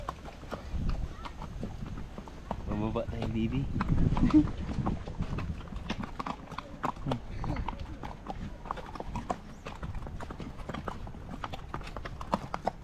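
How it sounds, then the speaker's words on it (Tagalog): Horse hooves clip-clop in an irregular, steady rhythm on hard ground, close by, while people talk over them. "Yung mga kabayo bumababa sa baba"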